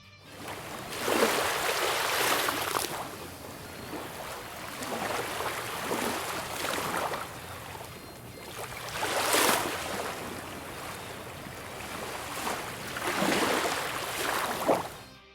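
Sea surf rolls in with repeated swelling washes, each wave rising to a hissing crash and receding, about four or five surges evenly spaced and moderately loud, with no voices.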